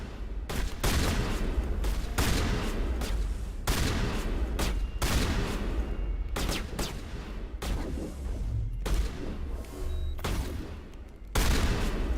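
Rapid, loud shotgun blasts in the sci-fi shooter Mass Effect: Legendary Edition, repeated bursts of gunfire roughly every second or two over a dense, continuous combat din, with no talking.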